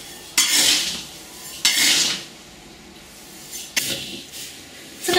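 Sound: stirring glutinous rice while dry-frying in a pan

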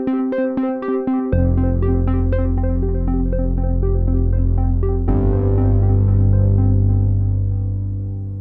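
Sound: analog synth melody played via MIDI

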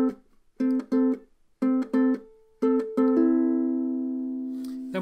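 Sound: ukulele playing bars 13 and 14 of a song

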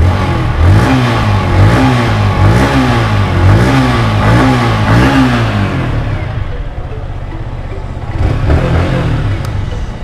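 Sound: sport motorcycle engine revving, exhaust note

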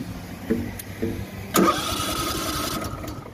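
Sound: Kohler Command mower engine being started

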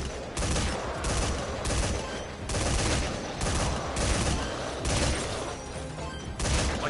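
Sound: gunfire in video game Metal Gear Survive

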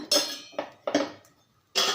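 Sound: appam pan (appa chatti) being placed on the stove

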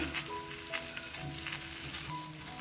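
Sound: bitter gourd pieces put into a hot pan, sizzling

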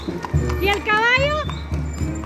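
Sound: horse hooves clip-clopping during a horseback procession

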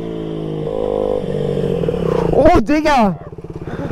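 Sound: motorcycle doing a wheelie at 130 km/h

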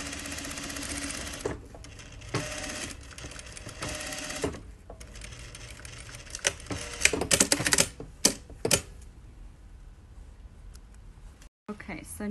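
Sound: sewing machine stitching a finished edge seam

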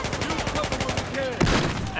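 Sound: gunfire in Battlefield 4 video game

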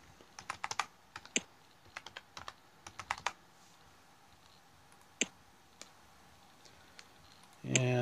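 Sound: typing a password on a computer keyboard

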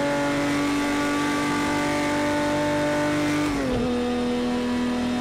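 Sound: Porsche 917 K engine racing at Spa, Project Cars 2 video game

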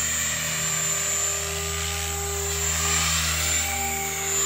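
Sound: model helicopter flying figure eights

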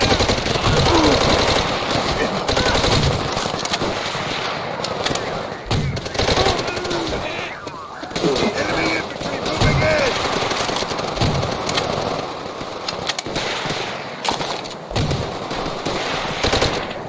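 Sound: machine gun fire from Call of Duty: World at War video game

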